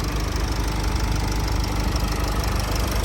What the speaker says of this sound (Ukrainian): Ось так працює мотор